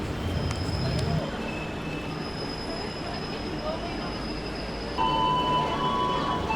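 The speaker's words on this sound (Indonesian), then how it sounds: "kereta api Fajar Utama Solo berhenti sebentar karena di jalur 3 ini nanti akan tiba kereta api Argo Semeru" A Fajar Utama Solo passenger train of new-generation carriages stands at a station track, its wheels and brakes giving off faint high squeals over a steady rumble, with a voice talking nearby.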